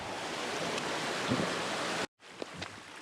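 A rushing mountain creek makes a steady broadband roar for a couple of seconds, then cuts off abruptly, leaving a quieter background with faint knocks.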